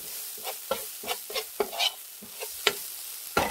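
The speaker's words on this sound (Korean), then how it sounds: "고춧가루 한 스푼을 볶아주세요" A spoonful of chili powder stir-fried in a pan, rhythmic scraping strokes of a spatula repeating roughly every half second over a low sizzle, close and clear with no voices.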